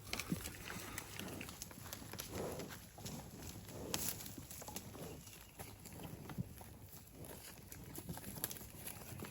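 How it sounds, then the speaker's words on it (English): Donkey walking along a creek, hooves clip-clopping in an uneven patter on the ground, soft and fairly close with outdoor background. "The donkey bringing up the rear."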